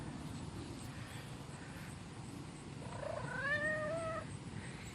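A pet cat lets out one drawn-out, wavering meow partway through, heard faintly over steady outdoor background noise.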